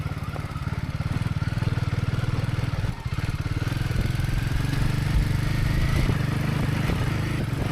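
A motorbike rides through the Himalayas toward the town of Padum, its engine a steady close rumbling throb that holds loud throughout, with wind noise over it and a brief dip partway.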